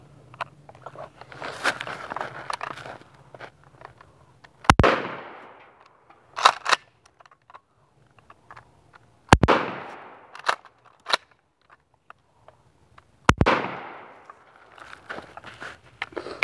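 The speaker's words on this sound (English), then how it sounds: "I shoot him in the chest with a 20 gauge." Three sharp, loud 20 gauge shotgun blasts fired at a dummy, spaced several seconds apart, each with a short echoing tail, with soft shuffling between shots.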